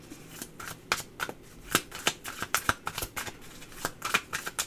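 Tarot cards are shuffled close up, a rapid flurry of soft papery riffles and taps repeating in quick bursts without any voices.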